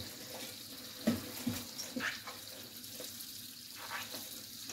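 Tap water splashes into a kitchen sink while partly frozen turkey necks are rinsed, a steady hiss broken by a few knocks and handling bumps as the pieces are turned.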